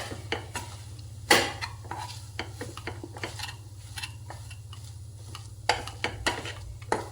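Soft scraping and clinking of a utensil against a pot as a vegetable and pea filling for paratha is mashed, with irregular light taps and one sharper knock over a low steady hum.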